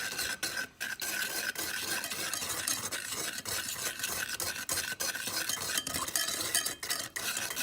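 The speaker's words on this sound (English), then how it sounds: "you're just going to use a whisk and stir that up" A whisk stirs a soy-based sweet sauce in a bowl, giving a steady, continuous scraping and sloshing texture with repeated quick strokes, close and fairly loud, with no talking.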